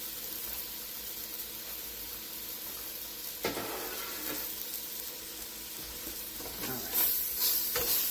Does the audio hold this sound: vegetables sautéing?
yes